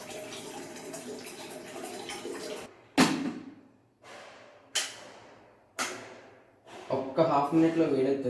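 Hot water poured over raw chicken to wash it: a trickling wash gives way to four separate splashy pours, each starting abruptly and fading, with a busier run of water at the end; close and fairly quiet.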